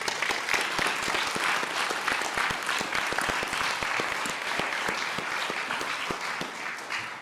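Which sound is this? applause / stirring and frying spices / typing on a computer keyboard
applause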